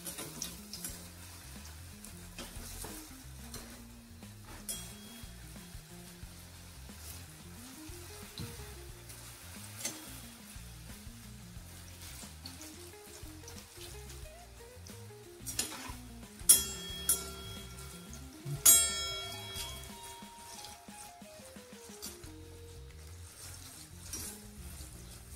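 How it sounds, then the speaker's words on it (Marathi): Modak frying in a hot steel kadhai gives a quiet, steady sizzle with soft bubbling, broken by a few sharp metallic clinks of a spoon against the pan near the end. "चमच्यामध्ये आता तळून घेते मी."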